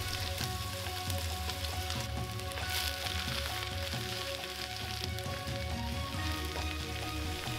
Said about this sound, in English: Add the onions to the pot and start cooking.